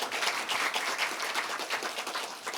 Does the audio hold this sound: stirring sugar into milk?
no